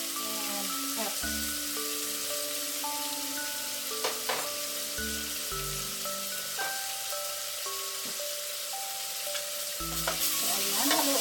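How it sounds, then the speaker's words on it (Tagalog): Pork seasoned with salt and pepper frying for curry, a steady rain-like sizzle under periodic scraping stirs of a utensil through the pan, close up with no speech. "So ayan, haluin na natin siya mabuti pa friendship."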